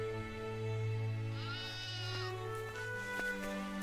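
A sheep bleats in a long, wavering, nasal call close up, with a second brief bleat following, over a low steady background hum in a cartoon scene.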